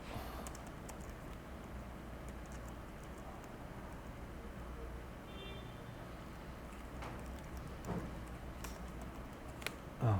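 Computer keyboard typing, faint irregular clicks and taps scattered through ten seconds over a quiet low room hum, with no voices.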